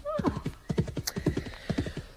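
In a radio drama effect, a horse neighs near the start as steady clip-clop hoofbeats keep a brisk rhythm throughout, close and clear.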